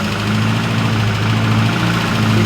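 An MG Midget engine idles steadily after a throttle adjustment, a loud, close, even hum with a low rumble and no pauses.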